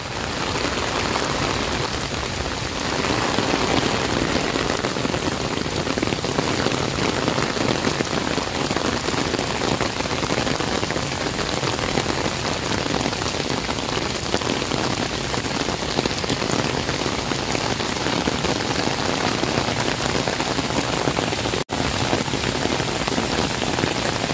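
Steady heavy rain pours down on Rizal Park (Luneta) in Manila for the whole stretch, a dense continuous hiss with no other sounds standing out.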